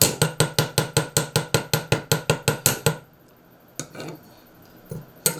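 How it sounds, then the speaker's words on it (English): Copper ring struck on an anvil with a hammer: a fast, steady run of about fifteen sharp metallic blows over three seconds, then quiet with a couple of isolated knocks. "I'm going to put it right back on the anvil. I'm going to hit it a little bit, flatten that way"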